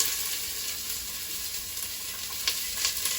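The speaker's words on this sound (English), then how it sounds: "I have a tablespoon of olive oil heating, and then we're just gonna start adding in the fixins for the lentils" Diced medium yellow onion sizzles in a tablespoon of hot olive oil in a pan, a steady soft crackling hiss with a few brief sharper pops, close and fairly quiet with no talking.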